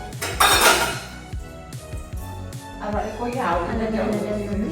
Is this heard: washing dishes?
yes